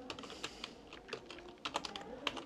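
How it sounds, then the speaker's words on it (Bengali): Typing on a computer keyboard while writing an exam prompt into an AI chatbot: irregular bursts of close, crisp key clicks with short pauses between, no voices. "তো আমি লিখলাম টুমরো মাই সায়েন্স এক্সাম"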